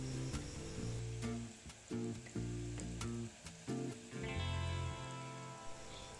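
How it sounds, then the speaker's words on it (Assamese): Chopped onions fry in a pan for a goat mutton curry, a soft continuous sizzle with scattered crackles under a steady low humming tone. "পিঁয়াজখিনি অলপ ৰঙা পৰালৈ ভাজি থাকিব লাগিব।"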